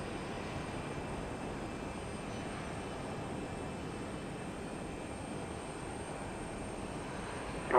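A plane arrives at Houston Intercontinental Airport (IAH) at daybreak, a steady, distant jet engine roar that holds evenly throughout, with no voices over it.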